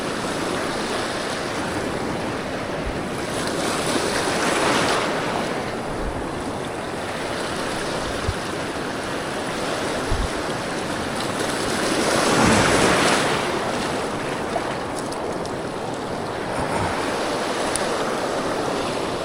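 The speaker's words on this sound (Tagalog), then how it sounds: "Tapos pasalubong pa tayo sa alon guys" Ocean waves surging and breaking at a rocky seaside fishing spot with steady wind buffeting the microphone, a continuous loud roar that swells periodically, with no voices.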